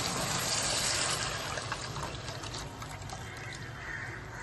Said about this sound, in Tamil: இந்த புளி தண்ணி கரைச்சி வச்சிருக்கோம் இல்லையா, அதை இதில் ஊற்றிடுவோம்.